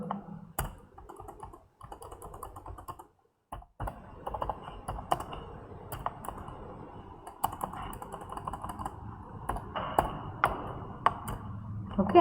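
Steady typing on a computer keyboard while entering HTML markup, with rapid irregular key clicks close to the microphone, a short pause near the start, then continuous tapping to the end.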